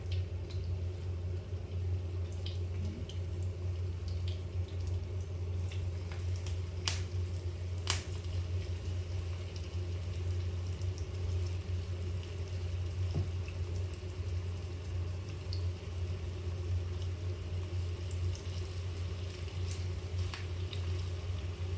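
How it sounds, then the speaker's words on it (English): Meatballs fry in hot oil with a steady, soft sizzle and a low hum that run unbroken for about twenty seconds. A few sharp pops and crackles stand out, and no one speaks. "our oil is already hot, I think. So we will now add our meatballs."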